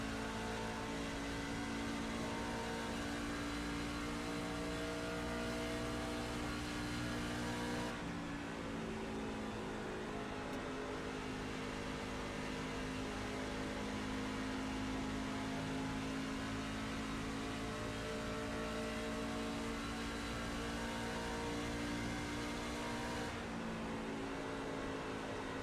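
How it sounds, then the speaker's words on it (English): Race cars in the iRacing sim roar continuously as several cars go by, a loud steady engine drone with shifting pitch and a brief change in tone midway, with no talk over it. "Letting 3 cars go by."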